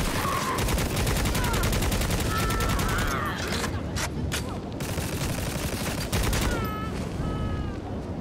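Rapid automatic gunfire rattles almost continuously in Necromunda: Hired Gun, loud and near, with brief pauses and scattered single shots amid chaotic combat effects.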